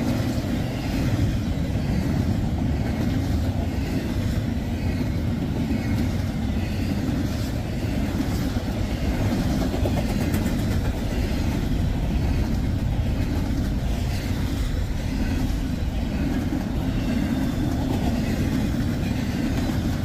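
A Norfolk Southern freight train rolls past on rail, a steady, loud low rumble of locomotive engines and wheels that holds without a break for about twenty seconds, with no talking over it.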